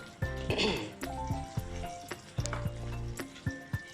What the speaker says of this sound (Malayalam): അപ്പോൾ നമ്മൾ അതിലോട്ട് താളിച്ച് കഴിക്കുകയാണ് കേട്ടോ